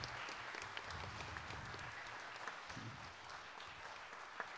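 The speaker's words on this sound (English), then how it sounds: "Can we get one more round of applause for all of our soloists?" An audience at a spring jazz concert gives a round of applause for the soloists: dense, steady clapping that holds at an even level from start to finish, with no talk over it.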